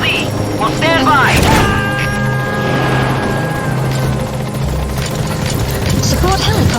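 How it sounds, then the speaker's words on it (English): A support helicopter arrives in Metal Gear Solid V, its steady rotor chop and engine drone filling the scene continuously at close range, with radio chatter and speech layered over the noise. "Support helicopter has arrived."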